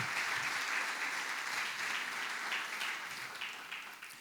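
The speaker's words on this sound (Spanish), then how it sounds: "Un aplauso a eso" A church congregation applauds during a sermon, with a sustained wash of clapping from many hands at moderate distance that stays even throughout and eases off slightly at the end.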